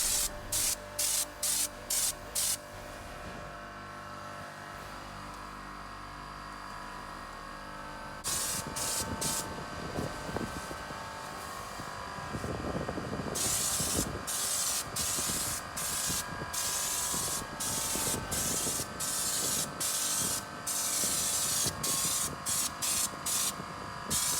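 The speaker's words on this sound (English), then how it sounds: "In this case, I applied 2 coats of the Raptor lining." Raptor urethane bed liner coating is sprayed onto a trailer, a loud hissing spray in long bursts, some broken into rapid short pulses, with quieter gaps between passes.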